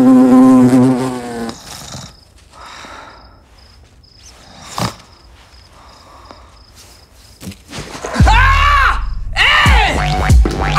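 A bee buzzes close by in a thin, steady drone, broken by rustling and a few knocks, with loud movement and a shout near the end.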